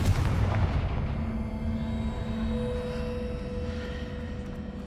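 A Confringo fire spell blast in Hogwarts Legacy: a loud, booming burst at the start that rolls off into a sustained low rumble with faint tonal ringing, no voices.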